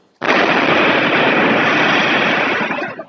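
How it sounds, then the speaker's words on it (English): A homemade bomb explodes during an ATM heist at Melbourne's Queen Victoria Market, a sudden loud blast followed by a sustained roaring rush of noise lasting about three seconds before easing off. "The thief sustaining life-changing injuries when a homemade bomb exploded in his face."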